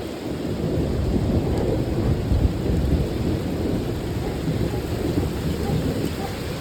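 Thunder from a severe thunderstorm rumbles low and continuous under steady rain, with no voices.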